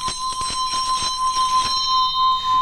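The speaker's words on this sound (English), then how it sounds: "And that's why it's called a singing bell." A rubbed singing bell, a metal bowl-type bell, rings with a steady sustained high tone that holds throughout, with faint rhythmic tapping or rubbing noises in the first half.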